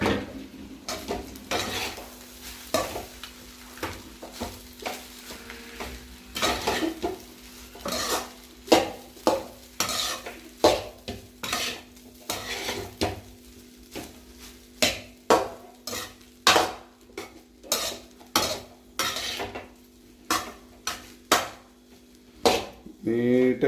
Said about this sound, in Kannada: ನೀಟಾಗಿ ಮಿಕ್ಸ್ ಮಾಡಬೇಕು, ಯಾಕೆಂದರೆ ಉಪ್ಪು ಖಾರ ಎಲ್ಲ ಅನ್ನಕ್ಕೆಲ್ಲ ಹಿಡಿಬೇಕು.